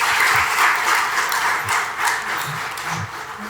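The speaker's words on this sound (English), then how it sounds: "Big applause to Team Skyroot for achieving this big feat." Applause from an audience celebrating the Skyroot team after the Vikram-S private rocket launch: steady, close, dense clapping that stays level with slight swells, with faint voice fragments underneath.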